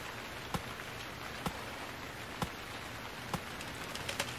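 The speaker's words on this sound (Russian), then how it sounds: "Заканчивайся, дождь. Ты мне не нравишься, дождь." Rain from the survival video game Stranded Deep patters in a steady, dense hiss on the surface, with soft, regularly spaced drips or taps standing out every second or so.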